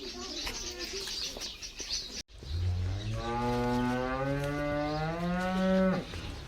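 A cow on a farm lets out one long, loud, drawn-out moo close by, preceded by softer background sounds and pigeon-like cooing.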